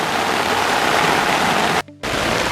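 Rain falling on a garden, a loud, dense, steady hiss of pouring water that cuts out briefly near the end.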